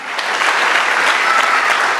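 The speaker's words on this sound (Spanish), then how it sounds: "Si lo crees, dale una ofrenda de palmas." A church congregation applauds during a sermon, a loud, dense burst of clapping that stays steady for about two seconds, close and filling the room.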